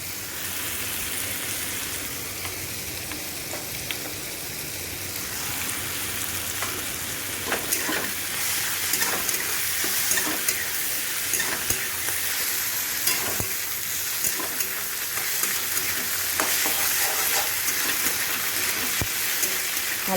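Ginger garlic paste frying in a pan in a home kitchen, a continuous close hiss and sizzle with scattered crackles and occasional stirring scrapes throughout.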